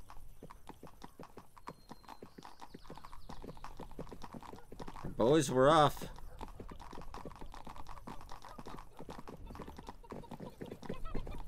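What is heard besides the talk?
horse hooves while riding, from video game 1428: Shadows over Silesia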